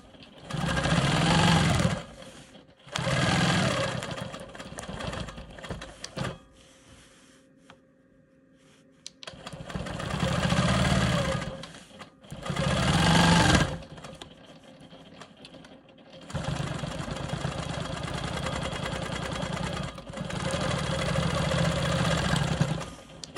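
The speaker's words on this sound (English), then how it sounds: "I'm going to go ahead and stitch up." Sewing machine stitching a star quilt block in several long runs of steady, fast mechanical whirring, close and loud, separated by short quiet pauses.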